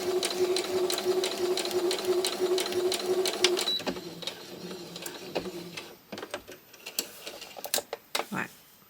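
Close sewing machine running a straight stitch at a rapid, even rhythm for about four seconds, then stopping; scattered clicks and handling knocks follow.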